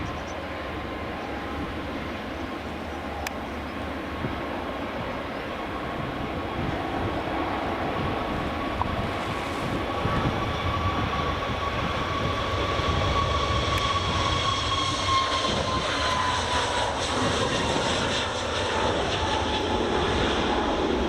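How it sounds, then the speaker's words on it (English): An Aer Lingus A321neo XLR at Edinburgh Airport on runway 24 gives a sustained, loud jet engine roar that builds steadily, with a rising whine threading through the rumble, heard alone without talk. "Aer Lingus A321neo XLR."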